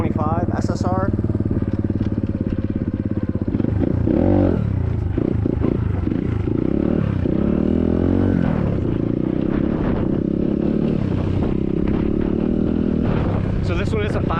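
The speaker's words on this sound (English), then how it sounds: "We'll do a top speed run also on the 125 SSR." An SSR 150cc dirt bike makes a top speed run, its engine droning loud and steady, rising and falling through gear shifts, with a rider's voice briefly heard over it.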